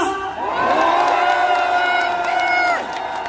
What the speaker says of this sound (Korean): 윤석열 대통령께 한 번 더 응원하는 함성 한번 부탁드립니다.